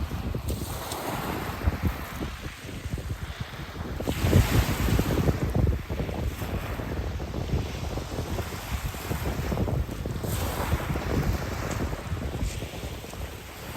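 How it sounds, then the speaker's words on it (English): Waves wash and rattle over a pebble beach by the sea, a continuous rushing surf with surges of receding water, heavily buffeted by strong wind noise on the microphone throughout. "which is the water on a beach and the pebbles"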